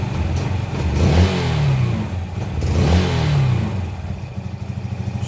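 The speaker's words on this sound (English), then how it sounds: "when you rev it up, the rev counter isn't that responsive" Yamaha YBR motorcycle engine under restoration, revved twice in quick succession with rising and falling pitch, loud and close over a steady idle clatter, no talking.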